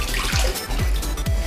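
Soaked, softened wheat being squeezed by hand to press out water while preparing a Brazilian Arabic dish, giving a steady wet, splashy trickle with a few louder squeezing surges, close up and without talk.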